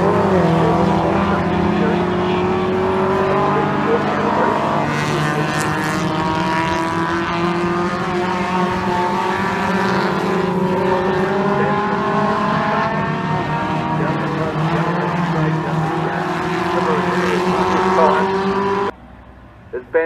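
ShellSport race cars at full speed on a circuit, heard as a continuous loud layered engine roar with rising and falling pitch as several cars pass, ending abruptly near the end. A commentator talks over the engines.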